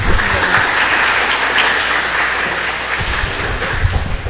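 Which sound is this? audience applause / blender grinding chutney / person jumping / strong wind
audience applause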